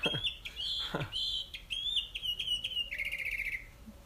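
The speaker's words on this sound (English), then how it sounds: "Thank you, my little bird friend." A small bird sings close by outdoors, a rapid run of bright chirps and warbling notes ending in a fast trill, fairly loud against faint ambient noise.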